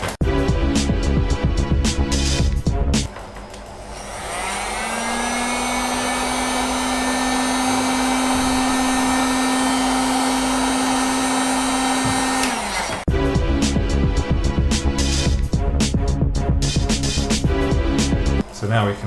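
A heat gun blows steadily for roughly nine seconds while shrinking heat shrink tubing on a recycled 18650 lithium cell battery module for a Ryobi One+ pack, a loud continuous whir with a flat tone. Workshop clatter and handling noises come before and after it.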